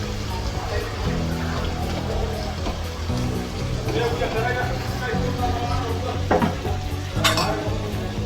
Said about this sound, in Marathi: कांदा एकदम छान भाजून घेतला की मग दुसरे चटणी, मीठ, मसाले वगैरे टाकून घ्यायचं आहे